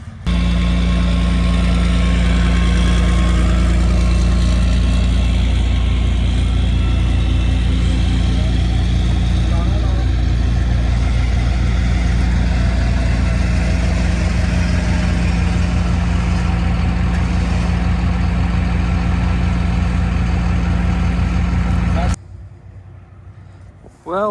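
A 1973 Plymouth Duster's engine runs loud and steady, idling with a low rumbling drone as the car is pulled out of a hole, then cuts off abruptly near the end.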